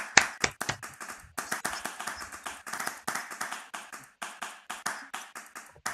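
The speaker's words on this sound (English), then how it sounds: "Round of applause again for Lazolia." A round of applause at a presentation event: scattered, distinct hand claps close by, irregular and moderately quiet, continuing through the whole stretch with no talking.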